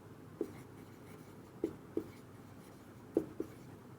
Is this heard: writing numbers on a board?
yes